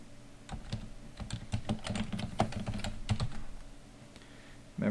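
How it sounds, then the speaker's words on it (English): Fast typing on a computer keyboard, close and fairly quiet, a steady run of key clicks for several seconds with a louder thump at the end. "I'm going to type this in."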